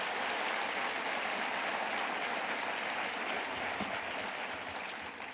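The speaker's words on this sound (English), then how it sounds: "let's give a round of applause to Alfonso David and Mecca Santana for her great work" Steady applause from a conference audience at a state government event announcing contracting goals, dense clapping sustained throughout and tapering slightly at the end, no voices over it.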